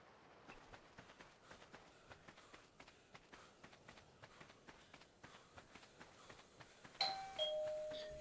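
A stream notification chime rings near the end, a bright tonal doorbell ding that follows a faint, steady run of rhythmic tapping like quick footsteps.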